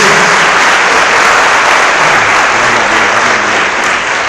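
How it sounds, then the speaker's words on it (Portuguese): Church congregation applauding during a communion service, a loud, dense, continuous wash of clapping that holds steady from start to finish. "Quem crê nisso, aplaude o Senhor mais uma vez, em nome de Jesus."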